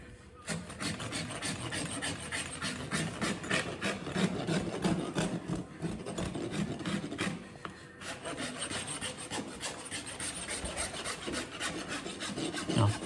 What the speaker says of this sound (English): Now I'm going to rasp the outside off,